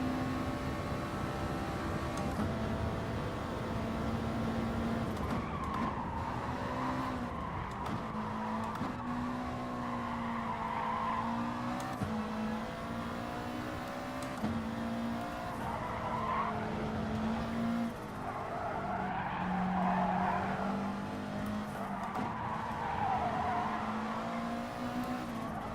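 A Subaru WRX race car in GT Sport slides and spins at the Nürburgring or Suzuka, with sustained tire squeal and a droning engine whose pitch wavers throughout, loud and continuous.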